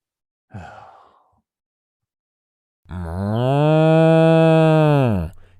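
A cow moos as a production logo sound, one long sustained bellow after a brief breathy snort, loud and close with nothing else around it.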